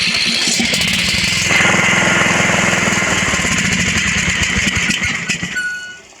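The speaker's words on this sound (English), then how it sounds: "I got to see if the starter works." An old riding lawn mower, fed a shot of gas in the carburetor, cranks on its starter and catches into a loud, rough, rapidly pulsing engine run close by, then winds down and stops near the end.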